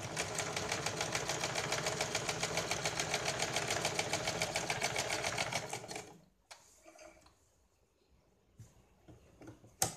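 A sewing machine stitches a double seam on a katori blouse, a close, fast rhythmic clatter running steadily for about six seconds before stopping, followed by faint handling noises and a small click.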